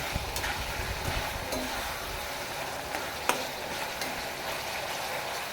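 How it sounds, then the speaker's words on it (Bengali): Fried meat trimmings for a chicken dish being stirred into an oil-separated spice masala, giving a steady soft sizzle with occasional faint clicks of a utensil against the pan. "এবার আমি ছাঁটগুলো ভেজে রেখেছিলাম এর মধ্যে আমি দিয়ে দেবো। দিয়ে ভালো করে আমি কষিয়ে নেব।"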